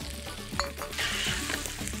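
Bomba rice sizzles in a pan with oil while vegetable paella is being made, a close crackling fry with a brief stirring scrape.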